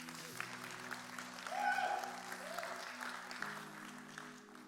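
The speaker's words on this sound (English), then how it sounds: "You can give Taylor a round of applause as he's seated." A church congregation applauds softly as a man takes his seat, distant steady clapping over a low organ-like sustained tone that swells slightly midway.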